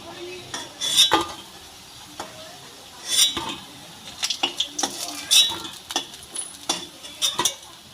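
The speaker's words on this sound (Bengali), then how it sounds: "এইভাবে সব বড়াগুলো একটা একটা করে ভেজে নেব" Drumstick flower fritters frying in oil: a soft background sizzle broken by sharp metal clinks and taps of a utensil against the pan.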